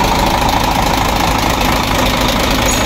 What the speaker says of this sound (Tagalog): So ganyan talaga ang andar ng Weichai engine China.